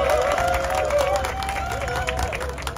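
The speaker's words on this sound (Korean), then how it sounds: "소개할 때는 큰 박수 부탁드립니다" A crowd at a joint press conference claps for a candidate being introduced, a dense patter of applause over a steady murmur, with a voice carrying through it.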